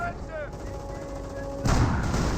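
Tank and mortar fire in the video game Company of Heroes rumbles through a wartime battle, with a heavy blast breaking in late over steady low battlefield noise and tones, while a voice talks over the action.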